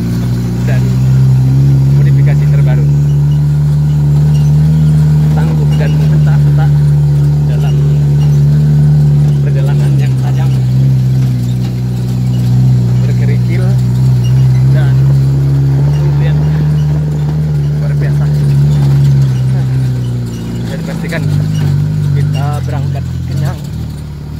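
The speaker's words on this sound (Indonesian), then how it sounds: "Di kawasan Merapi menggunakan jeep jenis perpaduan antara keluaran 1950-an" A jeep built as a mix of 1950s-era parts drives around the Merapi area, its engine droning in a loud, low, steady rumble with slight revving shifts while people talk over it.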